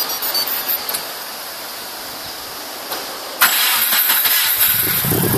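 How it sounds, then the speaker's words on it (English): A 1998 Subaru WRX with STI modifications starts by remote starter through a Viper alarm system, quiet at first, then the engine catches abruptly and settles into a loud, steady idle nearby. "I've started the car with the actual remote"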